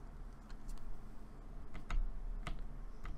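Sparse keystrokes on a computer keyboard, including backspace presses, sound as a few isolated close clicks spread over a few seconds against a low background hum.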